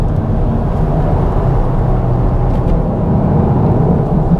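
Mk8 VW Golf R Estate in race mode powering hard out of corners on a rough surface, a steady loud engine and road roar heard from outside or inside the car, with no talk.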